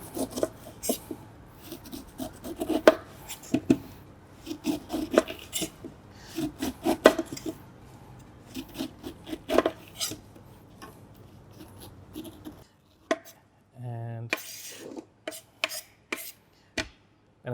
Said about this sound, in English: Chop this up. Make sure your knife's sharp enough.